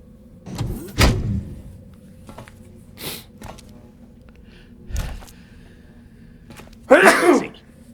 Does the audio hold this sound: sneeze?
yes